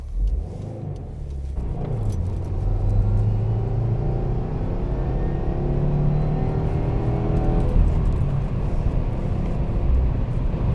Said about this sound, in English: there's obviously a lot of wind noise and stuff when you're on the highway